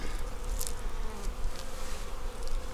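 Honeybees buzzing in front of a hive during a late-season inspection, a dense, steady hum of many insects close by, continuous throughout with no talk.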